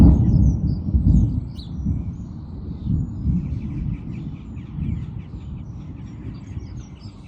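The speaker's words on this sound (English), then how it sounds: "That was a massive clap of thunder." Deep, rolling thunder rumbles loudly and close, with a heavy boom at the start that slowly decays into a long low grumble, while birds chirp and call faintly over it.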